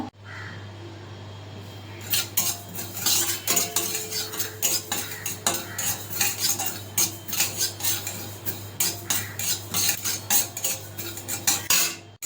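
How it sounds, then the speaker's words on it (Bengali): Poppy seeds dry roasting in a kadai with a spoon scraping and clinking against the metal in quick repeated strokes, loud and rhythmic over a low steady hum. "এক টেবিল চামচ আমি পোস্ত নিয়ে নিয়েছি এটা আমি ড্রাই রোস্ট করে নেব"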